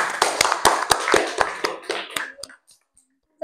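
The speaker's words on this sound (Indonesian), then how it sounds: "Tepuk tangan dulu untuk kelompok 3." An audience claps hands for a student group in a classroom, about a dozen sharp, evenly spaced claps that thin out and stop after two and a half seconds, heard alone with no talk.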